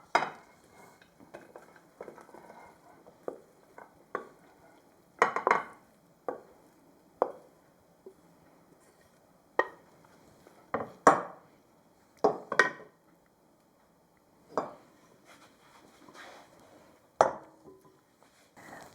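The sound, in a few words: vegetarian stuffing being put into a baking pan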